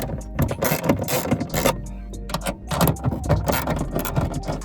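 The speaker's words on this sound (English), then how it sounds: "And then now let's start unbolting." Metallic ratcheting and wrench clicks while undoing the four taillight mounting nuts on a Porsche 986 Boxster S, close and busy with irregular bursts of tool rattles and short pauses.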